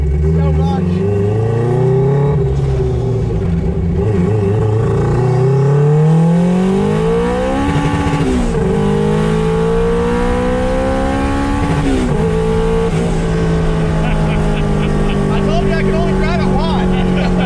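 A turbocharged Honda with a manual gearbox revs and accelerates, its engine note climbing and dropping through gear changes close by, with people talking over the engine throughout.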